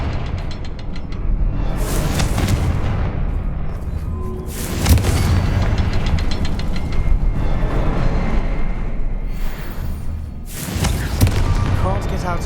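Several booming magical blasts from the Confringo fire spell in the Hogwarts Legacy video game, heavy explosions spaced a few seconds apart over a continuous loud rumble, with talk mixed in.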